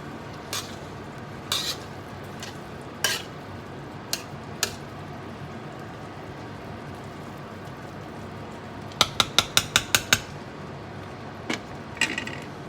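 A spoon scrapes and stirs yellow rice with pigeon peas sticking to the bottom of a pot, with scattered sharp clinks against the metal and a quick burst of rapid taps near the end.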